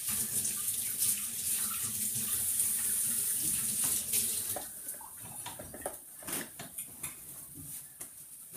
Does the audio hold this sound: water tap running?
yes